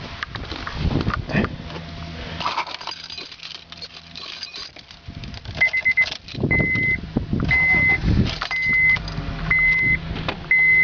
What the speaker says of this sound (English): Start the car and right away, turn on the deck.